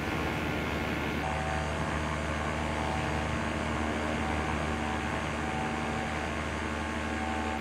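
Steady, droning engine hum of a Top Rudder Solo 103 ultralight aircraft in Microsoft Flight Simulator during a climb, continuous and unchanging with a faint tonal whine, no voices.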